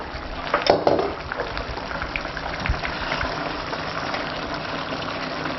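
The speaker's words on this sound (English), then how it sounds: "And poach the tails until they're tender and they start to curl up." Crayfish tails poach in simmering liquid, giving a steady, close bubbling hiss throughout, with a few louder splashes near the start.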